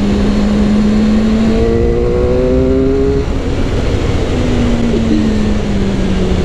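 A 2001 Suzuki GSXR 600 motorcycle accelerating in third gear, its engine note climbing steadily under wind rush, then dropping briefly before pulling on again as a continuous loud drone.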